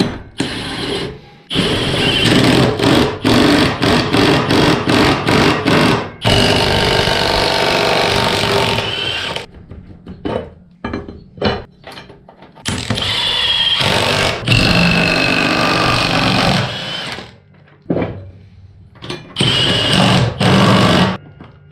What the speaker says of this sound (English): I'm gonna use an impact gun